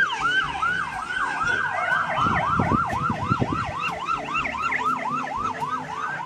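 A toy ambulance's wailing siren repeats in fast rising-and-falling sweeps, steady and loud, with some low rattling noise underneath partway through.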